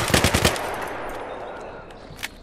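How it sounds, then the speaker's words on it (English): A FAMAS rifle fires in Battlefield 3, a quick burst of five or six sharp, loud shots at the start, then a decaying echo and a single faint crack near the end. "Short controlled bursts, like the FAMAS."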